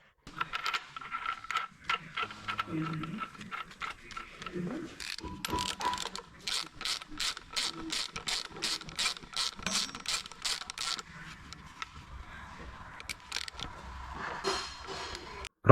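A ratchet tightens the new crankshaft pulley bolt on a Skoda Octavia 1.6 TDI engine, a long run of fast, evenly spaced clicking in the middle with softer metallic scrapes and handling noises before and after, close by and moderately quiet.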